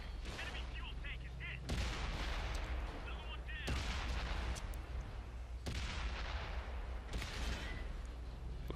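Tank cannon shots from a Type 59 in World of Tanks on Xbox boom out in four heavy, evenly spaced blasts, each with a sharp crack and a long rumbling tail over constant low engine drone, with a voice faintly under it.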